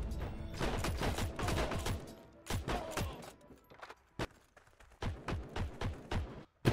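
Tokarev gunfire in Heroes & Generals comes as dense bursts of rapid shots, then sparser, irregular single cracks and short volleys, with further shooting blending into the background at a moderate distance.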